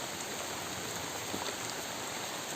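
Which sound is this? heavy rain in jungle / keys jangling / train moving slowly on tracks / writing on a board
heavy rain in jungle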